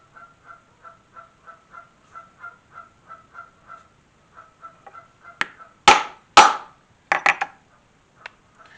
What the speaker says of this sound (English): Sounds like I've got some wild geese outside going crazy.